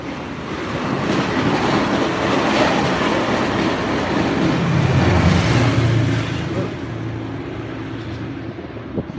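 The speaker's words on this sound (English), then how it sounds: "Oh, here comes another fast-moving Caltrain." A fast Caltrain rushes past close by in Santa Clara, a loud, steady roar of wheels and rail noise that swells midway as the locomotive passes and then eases off.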